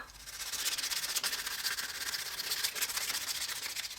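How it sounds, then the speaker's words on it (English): Rhythmic sanding strokes rasp back and forth by hand, softening the sharp edges of a handmade pie lifter, a steady scratchy rubbing repeated many times, close and moderately quiet. "now we need to remove our lines and sand any of our sharp edges to soften them up a bit"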